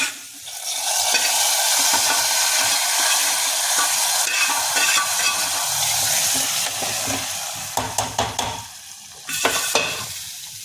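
Asafoetida tempering hits a pot of bathua dal with a loud, steady sizzle and hiss, close up. Near the end the sizzle breaks into a few sharp clinks and spatters.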